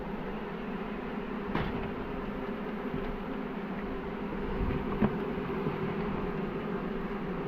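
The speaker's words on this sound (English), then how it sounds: "There's a lot of bees in there." Honey bees buzzing inside a swarm box, a steady close drone with a faint background hum and an occasional soft knock.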